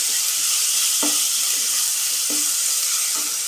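Ginger garlic paste sautéing in a pan for a stew, with a steady loud sizzle and a few scraping stirs of a spoon recurring about once a second; no voices.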